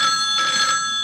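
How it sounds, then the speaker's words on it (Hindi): An electronic telephone ringing with steady high tones, close and clear, two pulses within about a second, no voices. "फिर पेजर की पिप पिप और ट्रिंग ट्रिंग करती फोन की घंटियां।"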